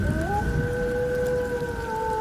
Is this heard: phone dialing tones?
no